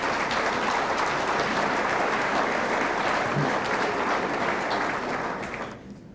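Banquet crowd at a motorsports awards dinner applauding a guest, a full steady roar of clapping that fades out abruptly in the final second.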